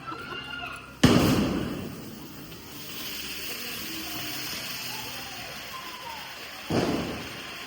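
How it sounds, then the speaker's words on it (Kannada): Golden Diwali firecrackers go off in two sudden bangs several seconds apart, each followed by a fizzing hiss, with voices nearby. "ಹೆಂಗಿದೆ ಬಂಗಾರ ಪಟಾಕಿ"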